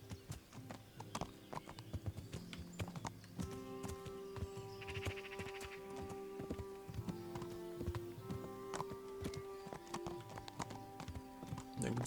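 A horse in the medieval game Kingdom Come: Deliverance, its hooves clip-clopping in a steady rhythm over tonal game music with sustained notes, at moderate loudness and with no talk.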